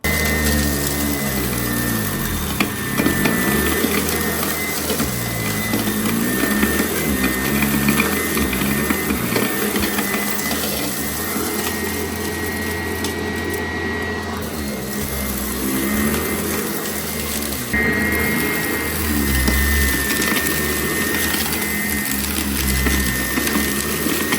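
A Sanitaire Tradition SC887E bagless upright vacuum cleaner running continuously, a loud steady motor whine and roar with slight pitch shifts as it is pushed around, no voices.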